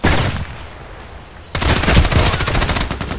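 Sig Sauer MPX submachine gun fires in Contract Wars, a rapid close burst of automatic shots that breaks in loudly after a quieter stretch and keeps rattling to the end.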